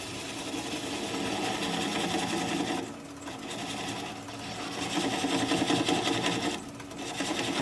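A gouge cuts a laurel bowl on a wood lathe. The sound is a continuous mechanical hum and scraping whir, with a few brief dips where the tool eases off the wood. No one speaks.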